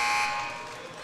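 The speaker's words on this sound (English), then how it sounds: "Vincel's going to have to just throw up a 3 at the buzzer and misses." A basketball arena buzzer sounds loudly at the end of the third quarter of a high school game, a sustained electronic tone that fades over about a second.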